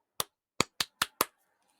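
Five sharp hand claps, close and dry, a single clap followed by a quick run of four evenly spaced, in a quiet setting with no talking.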